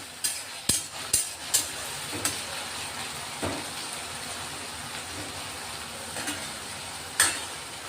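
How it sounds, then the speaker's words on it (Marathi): Chopped onion and peeled raw potato frying in a pan: a soft, steady sizzle with a few sharp clinks of a spoon stirring against the pan, mostly early on, quiet and close. "आता कांदा आणि हे बटाटे चांगले परतून घेणार आहेत आपण."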